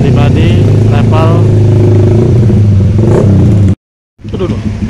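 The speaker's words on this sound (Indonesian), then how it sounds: "Tuh, kendaraan motor sudah banyak," Many motorcycles at Bakauheni port on a Sunday night rev and rumble loudly under constant talk, then cut out briefly before resuming.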